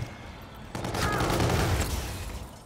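Gunfire in the video game Call of Duty: Infinite Warfare, a team deathmatch on the Throwback map, with a dense, sustained burst of shots starting partway in and running steadily to the end under a busy game mix.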